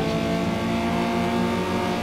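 A car engine drones steadily in the racing video game Need for Speed Underground 2, a dense continuous roar of acceleration with no talk over it.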